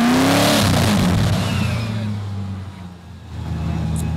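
A Swedish-built Koenigsegg supercar engine revs loudly nearby, a rising whine that sweeps up then settles into a droning roar, dipping briefly before swelling again.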